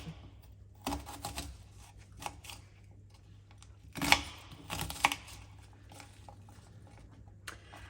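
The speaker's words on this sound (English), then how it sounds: "once you've peeled your onion, you can chop it" A knife chops a peeled onion while a harvest casserole is prepared for the air fryer. A few quiet, irregular knocks of the blade hitting the board, with no talk.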